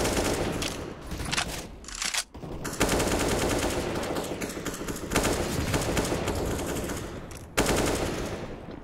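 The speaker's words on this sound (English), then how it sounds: "These are some crazy wall bangs on all parts of the map." Counter-Strike gunfire during a Nuke map match, with players spamming wall bangs: dense, continuous rapid automatic shots, loud and close, with a brief gap before the firing resumes and carries on to the end.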